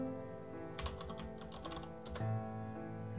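Quiet typing of a web address on a computer keyboard, a quick cluster of soft keystrokes over a steady background hum, with no voices.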